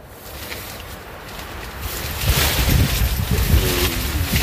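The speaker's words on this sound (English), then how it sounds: "Yeah, it's a little windy." Wind rushes and buffets steadily around a tent in the trees, growing louder and gustier partway through, with flapping and rumbling noise close to the microphone.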